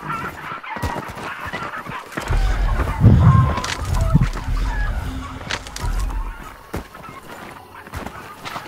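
A chicken clucks in the video game Hunt: Showdown, a loud, near burst of clucking in the middle of a steady game ambience, with no talk over it.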